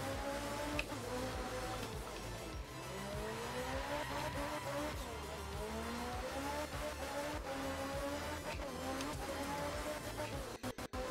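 A car driving on a Japanese course in a racing game, its engine droning and revving in shifting tones throughout, with tire squeal and skidding as it slides, steady and close.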